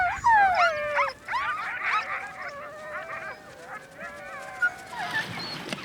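Sled dogs in Greenland whimper, yelp and howl at feeding time, a loud chorus of rising and falling whines from several animals overlapping close by, with a brief burst of noise near the end.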